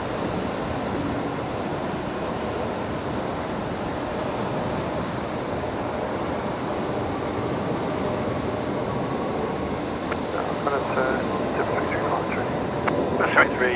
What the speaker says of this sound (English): Idle reverse thrust there.